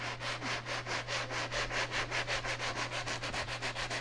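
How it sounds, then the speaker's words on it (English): Steady rhythmic rasping of the coarse side of a sanding sponge scrubbing a drywall repair, quick even back-and-forth strokes, close and continuous with a low hum beneath. "We're just going to use the coarse part of the sanding sponge and sand that smooth first."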